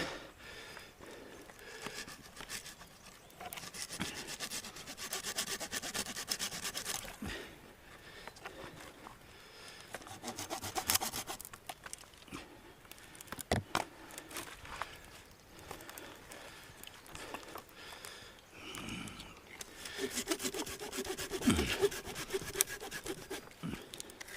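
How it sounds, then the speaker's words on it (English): A dull hand saw cuts through wood at a backcountry campsite, its rasping strokes repeating steadily and close by, with scraping texture and brief pauses between runs of strokes. "Time for a new saw. This one's a little bit dull."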